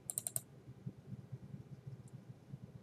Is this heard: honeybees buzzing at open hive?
no